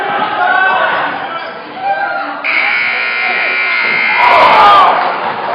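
A long electronic buzzer sounds at the end of the third quarter of a tied high school basketball game, St. Ignatius versus Superior, sustained loudly over crowd noise and a commentator's voice, with cheering rising at the end.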